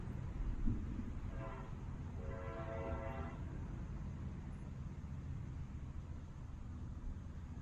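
A Brightline passenger train rolls through Cocoa Junction on a crew qualification test run, giving a steady low rumble throughout with a brief horn-like tone near the start and no voices.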